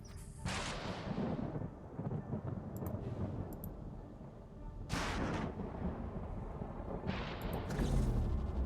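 A thunderstorm in the colony-building video game Planetbase rumbles in deep, booming bursts. Three heavy rolls of thunder are spaced a few seconds apart over a constant low roar.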